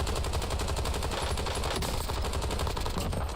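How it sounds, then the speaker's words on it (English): Rapid automatic gunfire from Call of Duty Warzone, loud and close, rattling in a dense, unbroken stream of shots for the whole stretch with no talking over it. "stop shooting at me"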